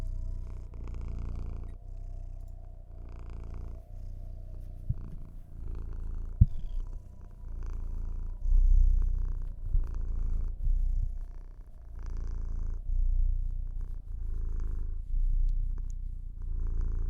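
A cat purrs steadily in someone's lap, close and soft, with a rhythmic pulsing rumble that swells and fades with each breath over a quiet room.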